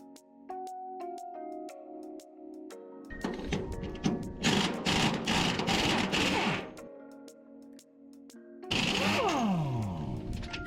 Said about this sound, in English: cut a slot this way with a cutoff wheel to relieve the tension on the bolt